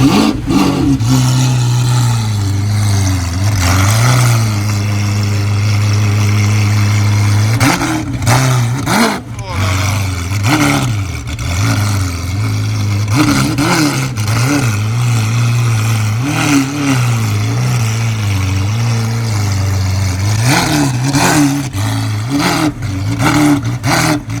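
A deep, loud Lamborghini Aventador SV engine idles and blips its revs repeatedly at a supercar meet, with someone talking over the rumble.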